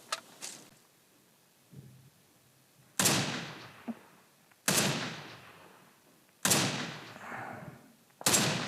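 Four loud, sharp gunshots in a video game, widely spaced with long ringing decays, preceded by faint quieter clicks and shots, close and isolated without talk.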